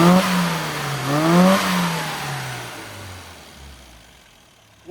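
Classic Mini engine with a drilled airbox and modified advance curve, revving up and down in close, loud pitch sweeps, then dropping back toward idle as the sound fades.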